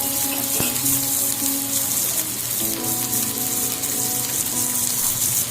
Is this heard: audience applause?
no